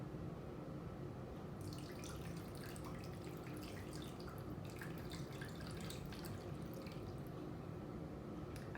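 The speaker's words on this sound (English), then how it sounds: "you're gonna fill it with water" Water runs from a tap into a Luvele yogurt maker, a quiet steady pour with splashes and drips that grow busier as the container fills, heard up close with nobody speaking.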